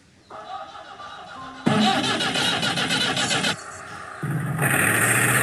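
A cartoon-style car driving sound effect, with engine noise rising in stepped surges, loud and continuous, and no talk.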